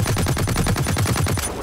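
A light machine gun fires a steady rapid burst of about twenty evenly spaced, close, loud rounds in a multiplayer shooter game, running without pause for well over a second before stopping.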